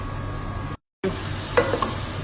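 Chopped green pepper and onion fry in oil and butter, a steady close sizzle interrupted by a brief silent cut, then stirring scrapes in the pan.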